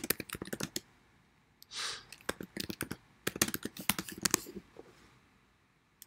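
Computer keyboard typing in quick bursts of close, crisp clicks with a short pause in between, entering git commands while setting up a Discord bot for Heroku deployment.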